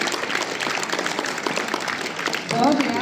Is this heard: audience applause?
yes